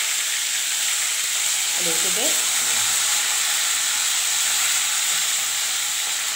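Stuffed eggplants fry in oil for a village-style kuzhambu, making a constant loud hissing sizzle throughout, with a short spoken word briefly heard over it.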